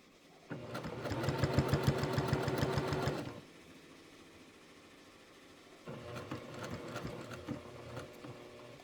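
A quilting sewing machine stitches a Christmas wall-hanging quilt in two fast, steady bursts of rapid needle strokes, separated by a quiet pause with a low motor hum.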